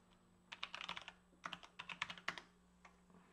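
Fast typing on a computer keyboard comes in two short bursts of sharp, clustered key clicks, close and fairly quiet, separated by a brief pause, with no talking.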